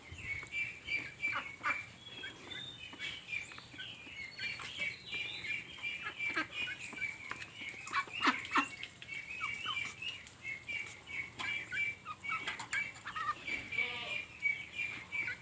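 A flock of crested ducklings about one and a half months old, kept in a backyard setup, giving continuous overlapping peeps and soft quacks close by, busy and unbroken throughout.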